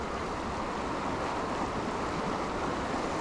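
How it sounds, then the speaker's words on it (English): Raging river water near a spillway rushes in a steady, dense roar that is constant and loud throughout, with some wind noise on the microphone. "kind of raging water"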